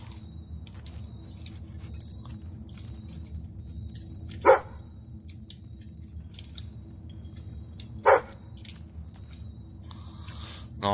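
Two sharp, separated barks from a dog in the video game Fable III, each a brief loud yelp standing out over a quiet, low ambient background.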